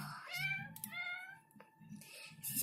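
Cats in a computer game meow in a rapid string of short, fairly quiet calls, each separate, with nobody talking over them.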